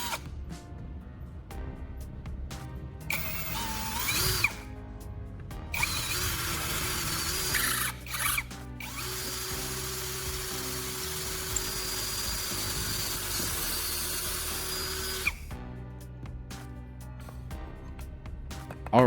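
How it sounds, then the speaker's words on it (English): A power drill runs in long sustained bursts with brief pauses between, whining steadily as it bores a hole through a wooden handle, close and fairly loud. "we'll drill a hole straight through it"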